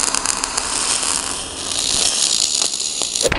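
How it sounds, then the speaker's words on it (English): MIG welding in spray transfer mode on metal for a fixture table, giving a loud, close, continuous crackling hiss that stays steady and dense across the whole short stretch. "it's gonna be on full-on spray transfer, which means it's gonna burn like super hardcore right up into that metal"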